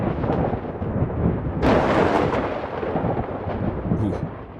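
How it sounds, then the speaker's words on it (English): A rumble of thunder rolls continuously, with a louder crack partway through before it fades back to a low, steady roar. "thunder is often accompanied by rain"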